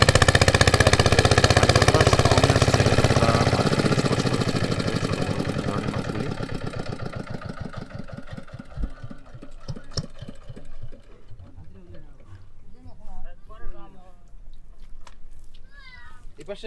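An engine-driven machine at a village fishing spot in the dry season runs loud and steady, then fades to a softer idle; voices and scattered knocks come through toward the end.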